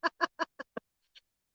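Duck quacking in a rapid series of five loud, close calls that taper off, followed by a brief faint call after a pause, heard on an outing fishing after dark.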